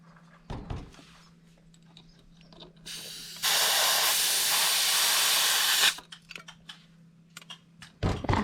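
Steady broadband hiss of air escaping from a punctured tyre on a wheel being pumped up, loud and continuous for about three seconds between faint clicks and handling sounds.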